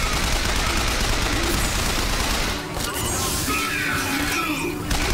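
Heavy rapid gunfire from a big gun in the video game Bioshock Infinite, sustained bursts filling the clip, with a brief dip midway before the shooting resumes loud and close.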